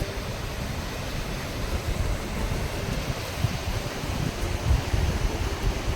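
Fast-flowing mountain water rushes between glaciers and snow, a steady, loud broadband roar with no pauses and no voices.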